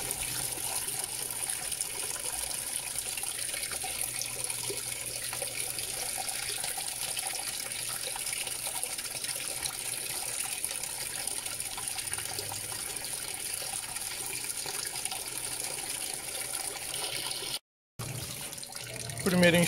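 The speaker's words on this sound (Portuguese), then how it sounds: "Deixa ela encher para o primeiro enxágue que eu volto. Enchendo para o primeiro enxágue." A 16 kg Panasonic washing machine filling with water for its first rinse on a load of dirty jeans, giving a steady continuous rush of inflowing water for about twenty seconds before a brief cut near the end.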